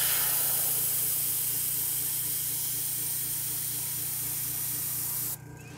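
An airbrush sprays water in a steady, loud, close hiss that runs unbroken for about five seconds, then cuts off abruptly, leaving quieter room sound.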